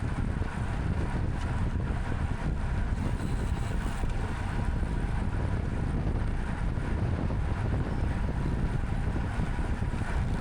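A strong headwind roars across the microphone during a bike crit race, a dense continuous rumble and buffeting that stays loud and unbroken throughout, with no clear voices.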